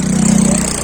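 A loud, close Dominar 400 or MT-15 motorcycle engine, in stock condition, growls in a steady, throaty idle that pulses evenly for under a second, with no voices.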